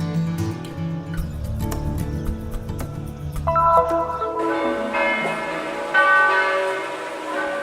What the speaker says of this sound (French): les cloches de l'église Saint-Sauveur de Jérusalem sonnent pour la célébration eucharistique des pèlerins en Terre Sainte